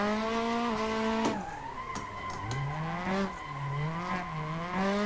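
A turbocharged 4AG 20-valve engine in a KE70 Corolla drones and shifts pitch in Assetto Corsa, with a gritty scraping rasp of the frame rails on the ground underneath, steady and continuous without speech.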